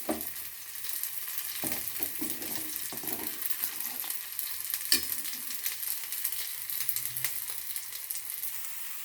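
A Kerala-style tempering for ash gourd saru is fried in a pan, a soft continuous sizzle with occasional stirring scrapes and knocks, faint and close, with no talking.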